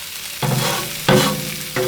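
Cooked onions are scooped off a Blackstone griddle into a small cast iron dish, with three distinct scraping scoops of the spatula over a steady close sizzle.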